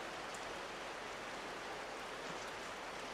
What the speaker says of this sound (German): Oh, es gibt Regen.